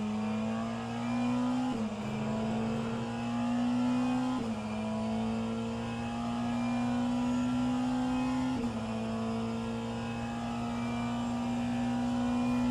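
Hypercars in a virtual endurance racing game roar loudly and steadily, with a sustained engine drone that rises through each gear and drops sharply at shifts, and no talking.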